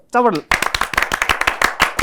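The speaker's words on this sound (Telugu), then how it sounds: "గట్టిగా చప్పట్లు." A brief vocal sound, then a crowd breaks into loud, rapid clapping that carries on in a dense burst.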